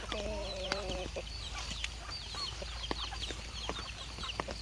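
Free-ranging chickens cluck and call repeatedly outdoors on a rainy, muddy day, with overlapping hen chatter and chick peeps over a steady background hiss and low hum.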